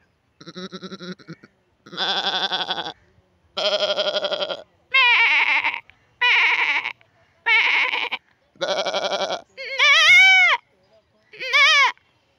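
A man imitates a goat with his voice, giving nine nasal, wavering bleats in a steady run, each about a second long with short gaps between, loud and close with nothing else behind them.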